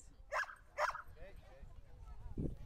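Dogs bark at a disc dog show at a small-town lily festival, two sharp close barks followed by fainter yips, with background crowd noise.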